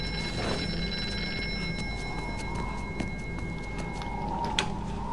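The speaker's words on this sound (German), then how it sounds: "Telefon." A telephone rings in the horror video game Here They Lie, a steady electronic ringing tone heard faintly over a dark ambient game soundscape with scattered clicks.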